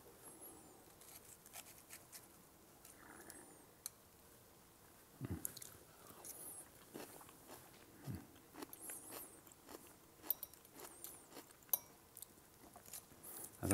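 Someone bites into charred baby lettuce topped with black garlic zabaglione and microgreens, with faint, close crunching and chewing over several seconds in an otherwise quiet room.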